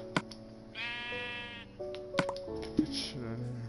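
A Minecraft goat gives a clear, quavering bleat, loud and close, set among sharp clicks and block sounds in the game.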